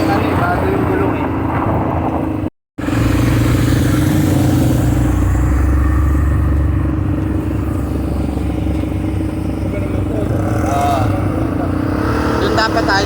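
A steady, loud engine drone from an ATV on a ride near Mayon Volcano in Bicol, continuous throughout apart from a brief dropout, with people talking over it.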